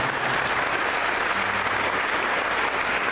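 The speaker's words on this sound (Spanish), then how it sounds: "Démosle un aplauso a Jesús esta mañana por esa palabra." A church congregation claps in steady, dense applause, loud and continuous throughout the short moment.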